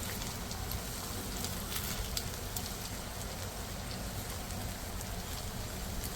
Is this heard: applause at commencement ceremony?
no